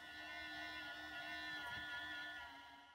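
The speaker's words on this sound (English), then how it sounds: "after a bunch of years, the fan starts to sound like this" A worn cooling fan in a Paul C. Buff Einstein E640 studio flash unit whirs with a steady, rough drone full of whiny tonal overtones, faint and continuous without pause.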